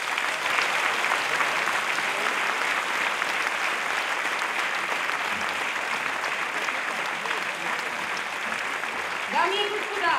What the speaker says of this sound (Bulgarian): Аплодисменти и за Атанаска Бонева